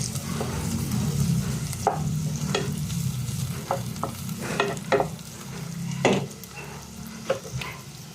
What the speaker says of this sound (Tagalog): Lagyan ko rin siya guys ng konting butter.